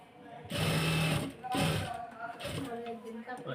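A sewing machine stitches a georgette kameez in bursts of steady whirring stitching, close and loud, with a voice talking over and between the runs.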